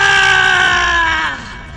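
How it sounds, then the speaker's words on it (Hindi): A ghost in a Hindi horror tale shrieks after its clay pot shatters, giving one loud, sustained, piercing scream that wavers and slowly fades over about two seconds, heard alone. "मटका फूटते ही भूत चिल्लाने लगता है"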